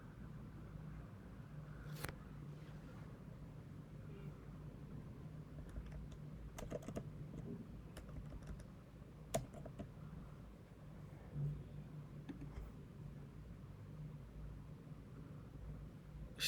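Quiet typing on a computer keyboard, a few scattered clicks and short bursts of keystrokes over a low steady room hum, with no voices.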